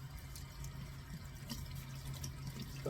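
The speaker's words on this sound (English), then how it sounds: "But this is how I rinse my yarn." Hand-dyed yarn being rinsed under a running tap, with a steady close wash of flowing water, faint splashes and drips over a low constant hum, no talking.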